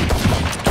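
Rapid gunfire from the video game Valorant crackles in a loud, dense burst of shots lasting under a second, with no talk over it.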